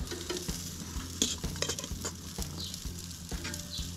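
Steaks sear on a Napoleon Phantom gas grill, a steady close sizzle and frying hiss running throughout with scattered scrapes and taps of a utensil against the grate.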